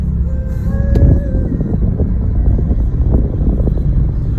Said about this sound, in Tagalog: Oh, traffic is real,